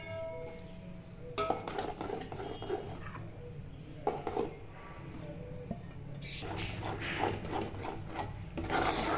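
A spoon scrapes and rubs against a pan in intermittent strokes, stirring ghee with ground peanuts and sesame until thick, with occasional clinks and a faint background hum.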